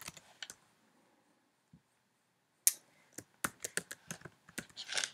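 A password is typed on a computer keyboard as a few quick keystrokes, then a pause, then a faster run of sharp, close clicks, fairly quiet overall.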